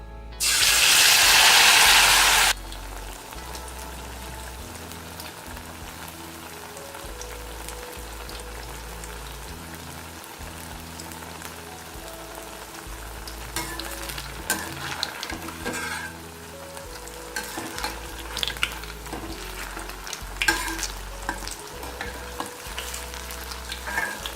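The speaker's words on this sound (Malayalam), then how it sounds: "ഇനി ഇത് നമ്മളുടെ ചൂടായിട്ടുള്ള ഓയിലിലേക്ക് ഇട്ട് കൊടുക്കാം" Jackfruit fritters dipped in batter sizzle and crackle steadily in hot oil, a dense continuous frying hiss lasting throughout, close and fairly loud, with no talking.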